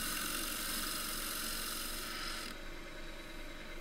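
A 3/8 bowl gouge cuts across the rim of a roughed-out wooden cylinder spinning on a lathe, giving a steady, bright rasping hiss that eases slightly near the end, close and alone.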